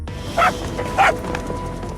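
A dog in a realistic stealth video game gives two short, sharp barks about half a second apart, close and loud against a quiet game background.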